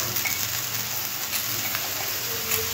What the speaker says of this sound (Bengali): ভালো করে মশলার সাথে কষে নিলাম সবজিগুলো।